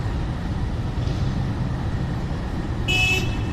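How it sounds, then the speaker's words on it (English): On a busy road beside a Miami canal, steady traffic rumble fills the scene, and a short car horn honk sounds near the end. "lot of honking here."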